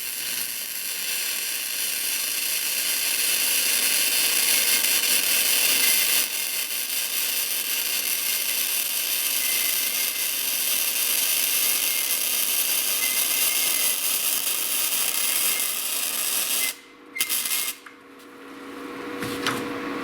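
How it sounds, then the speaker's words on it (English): A cheap flux core welder lays a bead on steel with a loud, steady crackling sizzle that runs for about seventeen seconds, then breaks off in a few short stops and restarts, with no talk. "So let's lay this weld in"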